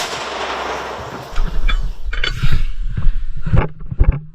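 Sharp outdoor gunshot cracks ring out amid wind and rustling, with several loud bangs in quick succession near the end.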